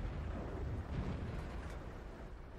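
Rumbling artillery fire and explosions from World of Tanks, a continuous low booming barrage with a heavier burst near one second, distant and dense with no voices.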